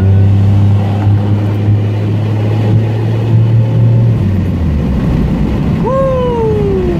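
A 2001 Pontiac Grand Prix GTP Special Edition engine runs in a loud, steady, close drone. Near the end a sharp rising-then-falling tonal sweep cuts in over the engine.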